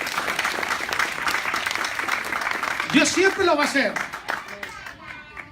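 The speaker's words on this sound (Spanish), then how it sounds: "dele más fuerte ese aplauso al Señor" Church congregation clapping in praise during a Spanish-language worship service, steady dense applause with a preacher's voice speaking loudly over it in the second half.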